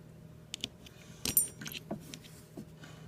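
Small metal handcuff and leg iron keys clink and jangle in sporadic bursts as they are handled, close and fairly quiet over a low steady background hum.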